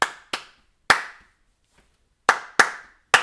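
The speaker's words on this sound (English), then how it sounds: "you could just clap it" Hands clap a repeated rhythm, sharp close claps in a short pattern: two quick, one, a pause, then three more, each snapping and fading quickly.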